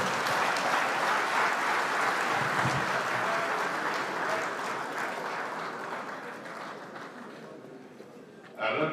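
Conference audience at a banking and finance event applauding, a dense, loud wash of clapping that slowly thins and fades before a voice cuts in at the end.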